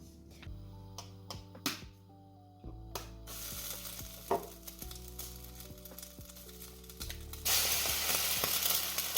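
Eggs and sausage frying in a pan for an omelette, a steady sizzle that swells louder toward the end, with scattered clicks and taps of the pan and utensils throughout.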